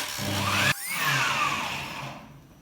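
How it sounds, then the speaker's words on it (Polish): A kitchen blender runs at full power, blending wild garlic pesto with sunflower seeds, pepper and salt: a loud, steady motor whine that briefly cuts out, then rises again as the pitch sweeps and slowly fades away. "I teraz tylko uruchomię blender"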